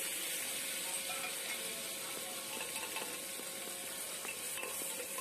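Spice masala fries gently over low heat in a pan, a soft continuous sizzle with faint intermittent clicks and scrapes of stirring, quiet and without talk.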